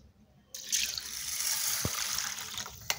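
Water pouring into a bowl of washed rice set to soak for veg dum biryani, a steady splashing rush starting abruptly and continuing close and moderately loud, with a couple of brief clinks, no talk.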